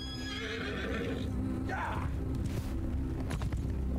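Horse neighing in the medieval combat game Mount & Blade II Bannerlord during a siege, a clear whinny rising mid-clip over steady battle ambience and low rumble.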